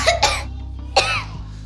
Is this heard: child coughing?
yes